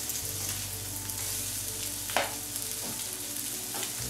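Homemade cevapi sausages sizzle steadily on an indoor grill, a continuous close frying hiss with a low hum beneath and a few brief scraping or crackling accents.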